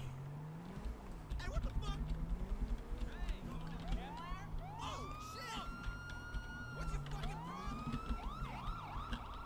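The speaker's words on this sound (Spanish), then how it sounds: "me pensaba que tenía las sirenas de España" Police car sirens from the GTA V LSPDFR mod on a Barcelona police patrol, several wailing, rising and falling tones overlapping continuously over engine rumble and street noise, loud and near, with someone talking over them.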